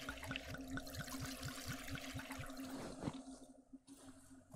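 In the video game Darkwood, liquid pours out in a steady glugging stream with a fast regular pulse, trickling and splashing for about three seconds before tapering into fainter dribbles.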